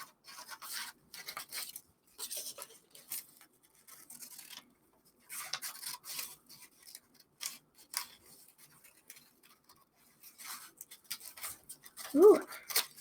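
Scissors snip paper puppet parts in a long run of short, close, crisp cuts and rustles, with brief gaps between them and a louder rubbing scrape near the end.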